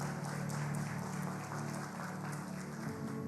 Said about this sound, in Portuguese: Aplauda essa palavra poderosa.